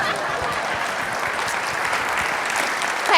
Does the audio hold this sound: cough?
no